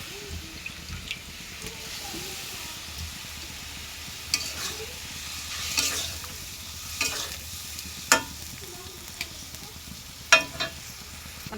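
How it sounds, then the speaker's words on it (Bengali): Pabda fish cooks with spices in a pan, giving a soft steady sizzle close by, broken now and then by sharp spatula clinks and scrapes that grow louder toward the end. "মাছ কষানো হয়েছে।"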